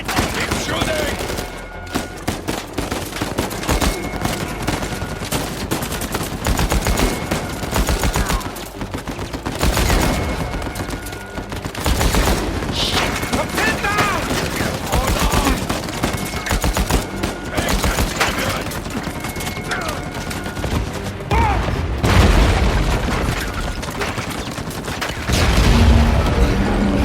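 Dense, loud video-game gunfire from Uncharted 4 rattles continuously for the whole stretch, bursts of automatic fire mixed with booms and shouted voices in a chaotic firefight.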